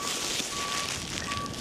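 Slow, evenly spaced reversing beeps from a garbage truck, heard through heavy wind noise buffeting the microphone.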